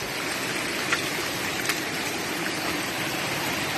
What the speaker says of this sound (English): we are climbing up a waterfall.